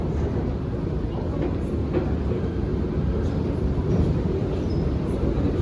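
A steady, loud low rumble of a train at an Istanbul metro station fills the space, continuous and droning with faint clatter above it.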